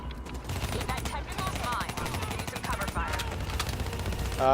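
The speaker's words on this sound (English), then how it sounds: "I'm covering you by shooting everybody" Rapid automatic gunfire from Call of Duty: Black Ops 3, a dense chattering stream of shots with other game sounds mixed in, steady and moderately loud from start to finish.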